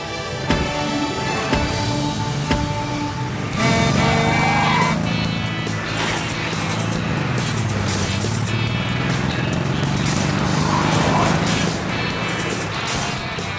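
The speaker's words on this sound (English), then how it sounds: "Get that engine revving!" Race car engine revving in the mobile racing game Cars: Lightning League, a rising and falling engine whine with tire squeals and a crash-like impact, loud game audio with music and effects layered throughout.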